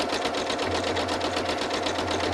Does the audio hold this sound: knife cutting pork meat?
no